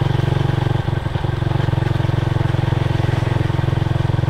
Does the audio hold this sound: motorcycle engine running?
yes